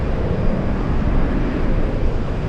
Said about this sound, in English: We have the Japanese Airlines 787